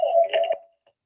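Telephone tones on a conference call as a participant hangs up: a short, steady electronic beep lasting under a second, then a faint brief blip, with no talking.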